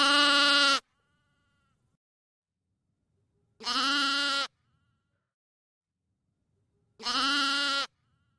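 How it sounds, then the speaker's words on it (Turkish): A lamb bleats three times, each cry a clear, loud, sustained call of under a second, spaced by roughly three-second silences, with nothing else audible. "Bu bir kuzu. Kuzular me diye ses çıkarır."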